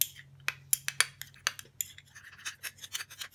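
A spoon stirring homemade skin cream ingredients, vitamin E oil and lemon juice, in a small container, giving a run of light clinks and scraping taps, irregular and close, over a faint low hum.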